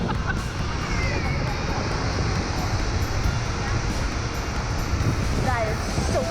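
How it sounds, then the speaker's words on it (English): Roar of Iguazu Falls, a huge waterfall in Argentina, heard up close as a dense, steady broadband rush with wind buffeting the microphone and people talking over it. "That is a waterfall."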